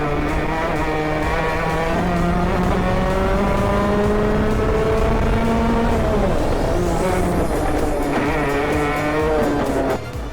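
A restored barn-find racing kart drives on a track, its engine droning loud and close with a sustained, rising and falling whine through gear and throttle changes.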